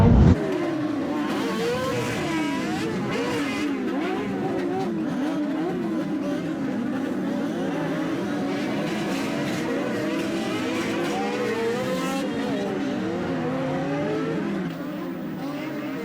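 A banger racing car stuck on the track, its engine revving continuously in wavering, loud surges as it strains back and forth, with faint voices underneath.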